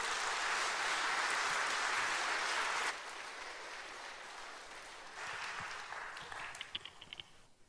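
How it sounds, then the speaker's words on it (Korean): A church congregation applauds to welcome the pastor to the pulpit, a dense wash of clapping that is loud at first, then softens and swells again before thinning into scattered claps. "우리 뜨거운 박수로 목사님 한번 모시겠습니다"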